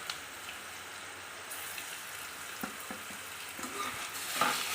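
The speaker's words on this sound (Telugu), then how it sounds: "ఇప్పుడు మామిడికాయ పచ్చి వాసన అంతా పోయి అందులో వాటర్ శాతం అంతా డ్రై అయిపోయినంత వరకు వేయించుకోవాలి." Grated raw mango sizzling in an oil tempering in a pan for mango pulihora, a steady frying hiss with occasional stirring clicks and scrapes.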